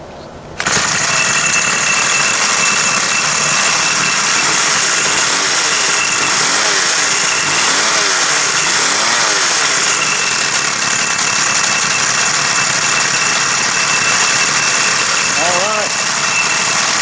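A vintage 2002 Weed Eater two-stroke 22-inch hedge trimmer, a barn find with a sticking clutch, runs steadily and loudly nearby, its buzzing engine rising and falling slightly in pitch throughout.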